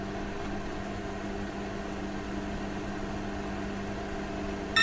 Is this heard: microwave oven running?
yes